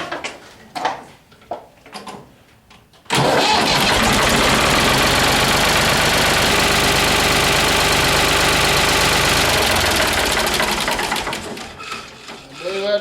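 A Ford 3000 tractor engine cranks and fires, then runs loud and steady for about eight seconds with a dense mechanical clatter before it cuts off. Faint sounds come before the start.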